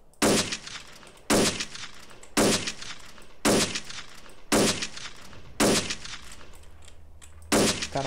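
Repeated bursts of sniper rifle gunfire in GTA multiplayer, about seven sharp shots spaced roughly a second apart, each with a short ringing tail.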